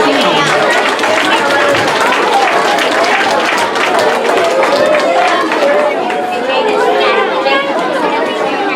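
A school awards audience applauds students, loud steady clapping mixed with crowd chatter and cheering voices throughout.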